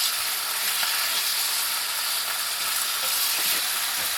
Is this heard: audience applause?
no